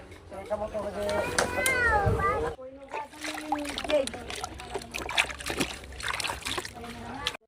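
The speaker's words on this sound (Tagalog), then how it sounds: "Hugasan muna namin." Water splashes and sloshes as freshly picked guavas are washed, the irregular splatter running close by beneath near-constant conversation.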